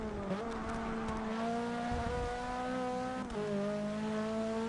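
Honda Civic touring cars race at Brands Hatch in Forza 6, engines holding a steady high whine that dips and climbs through gear changes, close and continuous with no voices.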